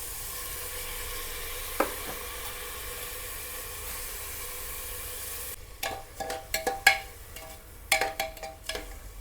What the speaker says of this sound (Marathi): आता या स्टेजला आपण स्वच्छ धुवून घेतलेले तांदूळ टाकूया.